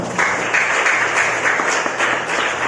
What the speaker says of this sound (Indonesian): Kalau saudara tepuk tangan buat Tuhan.